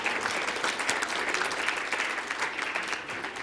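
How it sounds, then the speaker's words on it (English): Steady audience applause at an awards event, a dense continuous wash of many hands clapping at moderate distance, holding even for several seconds with no talk over it. "Round of applause, dog."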